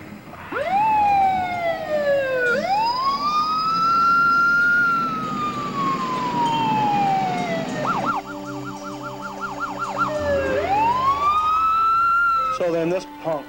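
A loud wailing siren sweeping up and down, then switching to a rapid yelp pattern before returning to the wail, close and dominating.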